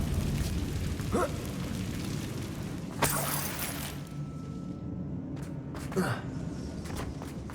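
A Confringo blasting spell in Hogwarts Legacy bursts with a sharp explosive crack amid ongoing game sounds, with a couple of fainter impacts afterward.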